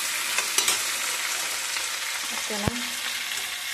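Vegetables including tomato and carrot frying in a hot pan, a continuous sizzle with stirring clatter and a few metallic knocks, as a voice briefly speaks.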